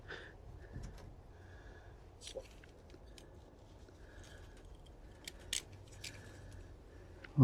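Small garden scissors snip through string while tying up plants on an allotment, a few quiet, sharp cuts scattered among soft rustling and handling in a calm outdoor setting.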